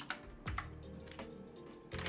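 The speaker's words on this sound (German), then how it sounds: "Ich vertippe mich sehr oft, weil ich ja an der japanischen Tastatur-Layout bin." Typing on a computer keyboard with a Japanese layout, a few close, soft key clicks in uneven bursts with quiet pauses between, no voices.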